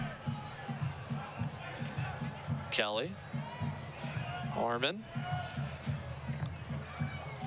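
Murmuring crowd at a Birmingham Legion FC versus Charlotte Independence football match, a low steady drone of fans under close commentary from a play-by-play voice.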